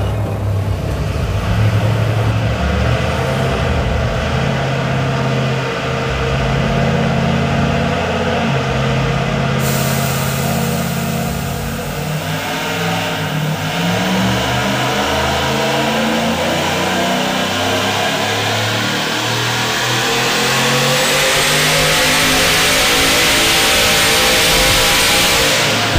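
Team MAK's S10 drag car, with a stock bottom end, revs hard on a dyno, its loud engine holding a steady drone and climbing steadily in pitch over roughly twenty-five seconds with no break.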